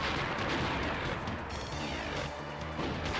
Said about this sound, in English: use this to destroy this building